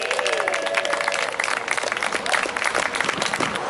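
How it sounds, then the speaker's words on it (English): Outdoor crowd at an NHS birthday celebration and protest outside Ealing Hospital claps for hospital staff, a continuous moderate patter of many hands with faint voices underneath. "Let's give Ealing Hospital a big clap and our fantastic NHS staff."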